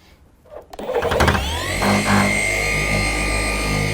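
A machine polisher working the paint of a Porsche 991.2 GT3 RS starts up after a few clicks, then spins up to a loud, steady whine with a rising tone that settles into a constant close hum.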